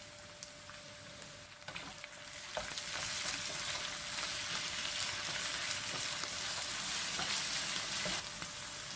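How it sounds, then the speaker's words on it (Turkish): Diced, peeled tomatoes sizzle with peppers in a pan, a continuous frying hiss that grows louder and denser after a few seconds, with occasional stirring clicks and no talk. "1 dakika kadar da biberlerle soteliyorum."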